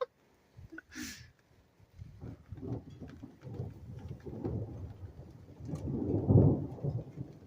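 Thunder rolls and rumbles through a storm with rain, building from scattered low crackles to a loud, deep peak near the end, with a brief sharp crack early on.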